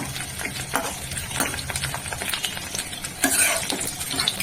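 Chicken pakora fries in very hot oil as a utensil stirs and scrapes through the pan, producing close clinks and bursts of sizzling that rise briefly near the end, with no speech.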